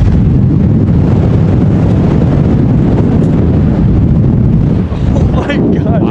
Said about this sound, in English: I have never felt wind this strong in my entire life.